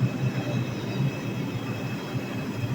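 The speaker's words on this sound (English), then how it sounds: "138th Street train station" Rumbling train noise at the 138th Street station in the Bronx, a steady loud low roar of rail cars with a faint high whine above it.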